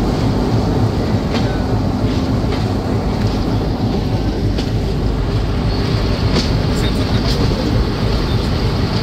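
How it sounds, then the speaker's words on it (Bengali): The Dhalarchar Express rumbles loud and continuous from a coach right behind the engine as it pulls out of Rajshahi station, with a heavy low roar and faint clanks. "ট্রেনটি কিন্তু রাজশাহী রেল স্টেশন ছেড়ে যাচ্ছে"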